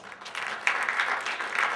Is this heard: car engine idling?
no